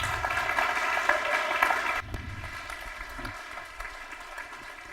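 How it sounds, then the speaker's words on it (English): Audience applause at a summit speaker's dinner, a steady, dense wash of clapping that stops abruptly about two seconds in, leaving quieter room noise and scattered claps. "Let's give them a warm applause."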